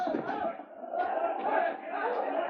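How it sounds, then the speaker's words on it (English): A crowd yells and shouts continuously during a fistfight in an old radio drama, a dense, distant-sounding roar of many voices that swells and dips without pause. "Sergeant Preston could hear the yells of the crowd as soon as he reached town"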